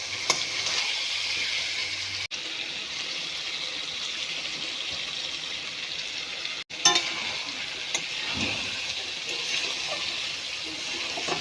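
Onion-ginger spice paste with ground cumin frying in a pan, a steady bright sizzle with occasional stirring scrapes and a couple of abrupt dropouts, close and moderately loud.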